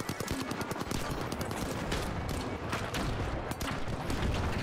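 Grenade launchers and other weapons fire nonstop in The Finals video game, rapid overlapping bursts and blasts forming a loud, dense barrage throughout.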